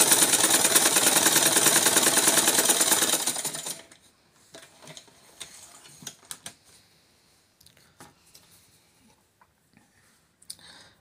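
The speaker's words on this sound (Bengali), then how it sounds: "তো এখন সেলাই করে নিচ্ছি টাইট করার পরে।" A sewing machine stitches after its thread tension is tightened: a dense, loud, even mechanical whirring for about three and a half seconds, then it stops and scattered light clicks and handling taps follow.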